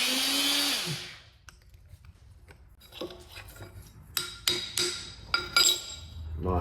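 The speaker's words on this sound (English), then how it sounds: "let's punch us a hole in this." A die punch cutting a hole through material in a workshop, heard as a series of sharp metallic clunks and clicks, spaced irregularly and growing louder toward the end after a brief whirring start.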